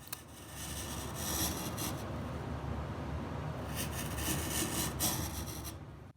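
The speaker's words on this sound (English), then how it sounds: "Here I am roughly shaping the heel block with the rasp." A rasp rubbing across a wooden acoustic guitar heel block, giving a steady, continuous coarse scraping with two brief bursts of rougher strokes, close and alone.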